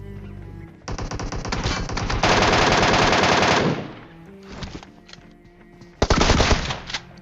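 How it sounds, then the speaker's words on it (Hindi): Shotgun blasts from a double-barrel DBS in a shooter video game come in two loud, dense bursts of rapid gunfire, separated by quieter game sounds. "लेकिन फाइट करेंगे भैया शॉटगन से।"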